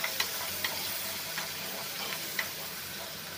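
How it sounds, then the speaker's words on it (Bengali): Prawns coated with turmeric and salt fry in a pan, giving a soft, even sizzle with several light ticks and clinks from stirring, fairly quiet and with no voices. "চিংড়ি মাছে হলুদ এবং লবণ দিয়ে আমি চিংড়ি মাছটাকে ভেজে নিচ্ছি"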